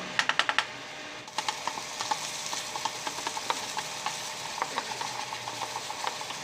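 Red curry paste being stirred into thick coconut cream in a pan for a Thai catfish and pickled bamboo shoot curry: a steady, soft sizzle broken by repeated light scraping taps of the utensil, close by and fairly quiet, with no voices.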